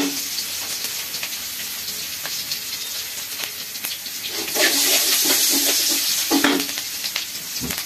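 Potatoes fry in a pan, a loud continuous sizzle broken by scraping and clattering as they are stirred, the sizzling swelling louder partway through, with no talking.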